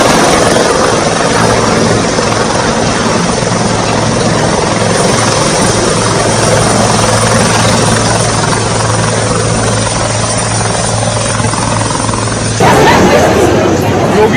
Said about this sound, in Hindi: योगी का हेलीकॉप्टर गोरखपुर में हेलीपैड पर सर्किट हाउस में लैंड हुआ।